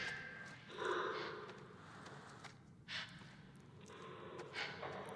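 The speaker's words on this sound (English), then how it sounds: "I don't like the breathing I'm hearing." Heavy, ragged breaths in the horror game The Devil in Me come as a few faint gasping and snorting pulses spaced irregularly, set against a hushed, dark background.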